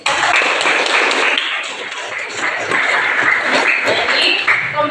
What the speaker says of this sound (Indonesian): beri tepuk tangan untuk Yolanda dan siapa?